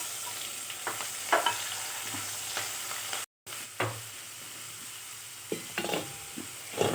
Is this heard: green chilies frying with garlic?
yes